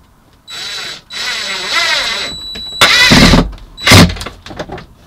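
A power drill drives screws into a cabinet inside a camper van, with several close, loud whirring bursts of varying length separated by brief pauses, ending with a sharp tightening burst and clatter.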